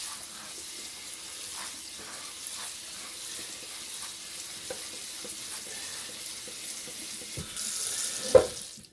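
A kitchen tap runs cold water over freshly cooked macaroni, a soft steady stream with small splashes and clinks, growing slightly louder toward the end.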